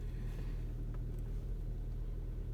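A 2012 Hyundai Santa Fe 2.4 engine with a crankshaft–camshaft correlation fault and a stalling problem runs close by in neutral, giving a steady, loud low rumble with a constant drone and no clear rise in pitch. No one speaks.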